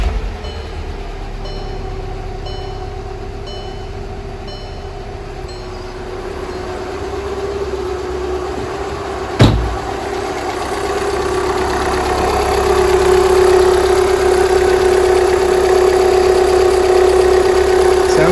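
Volkswagen CJAA TDI common-rail diesel engine after a timing belt job, a steady near idle drone with a brief sharp transient midway, after which the engine note rises slightly and holds smoothly; no talking.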